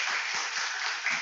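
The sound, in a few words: congregation applause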